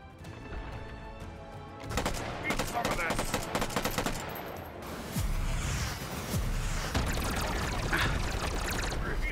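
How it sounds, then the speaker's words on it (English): Rapid automatic gunfire rattles in dense, repeated bursts while shooting the Gronch in the VR game Hot Dogs, Horseshoes & Hand Grenades, loud and close over a constant mechanical rumble and noisy backdrop. "I just gotta shoot him, shoot the Gronch in the cockpit"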